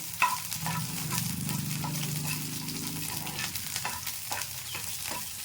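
Green chillies fry in a hot pan for a peanut chutney, giving a steady, close sizzle with a low bubbling layer and occasional stirring taps, with no talking.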